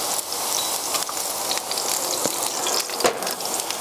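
Oil sizzles loudly and steadily in a pan of frying vegetables as more oil goes in before the rice, with scattered sharper pops and spits and no talking.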